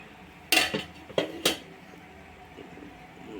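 A metal idli steamer pot lid opening on steamed rice balls, with a few sharp clanks close by and then quiet, no talk.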